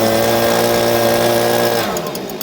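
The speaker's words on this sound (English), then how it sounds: "You push this up all the way, it'll hold it full throttle, so you don't have to sit there and hold the trigger all the time." The small gas engine on a piece of mowing equipment revs at full throttle with a loud, steady, high-pitched whine, then drops away toward idle about three quarters of the way through.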